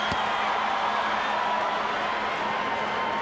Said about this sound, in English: Crowd rising in energy as Randy Newman prepares to summon the fighters to the center of the ring